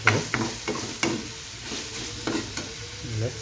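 Water is poured into a hot pot while Chinese-style chicken and mixed soup is made. It hisses and sizzles in short bursts with stirring clicks, close and fairly quiet.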